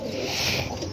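A male pigeon held in the hands gives a low, soft coo close by, a brief rolling call over a faint background hiss, with no talk.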